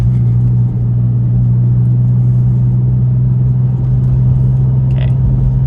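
Porsche 996 Turbo fitted with a Fabspeed Gen 1 exhaust and 100-cell cats pulling hard in second gear around 3,000 rpm, a loud, steady, deep engine drone filling the whole stretch with no talk.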